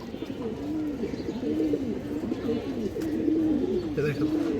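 A female Lal Giyar pigeon coos in a steady series of close, rounded, swelling calls, one after another, with someone speaking intermittently over them.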